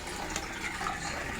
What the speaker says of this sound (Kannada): ಸೊ ನೀರು ಸೇರಿಸ್ಕೊತೀನಿ.